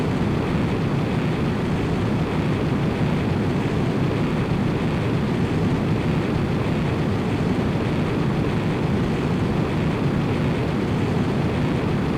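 A steady, loud jet roar from a fixed-wing aircraft taking off in a PSP flight action game, a broad continuous rumble that holds at the same level throughout with no talk over it.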